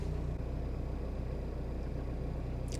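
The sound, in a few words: 1993 Citroen Xantia 1.9 diesel engine running from cold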